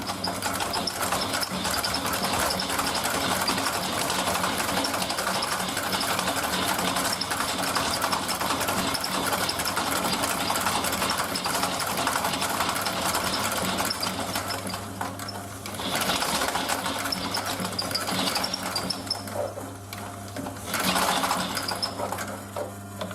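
A sewing machine stitching a canvas and leather bag runs steadily and loudly for most of the time, with a brief slowdown midway before the rapid mechanical stitching resumes; no one speaks.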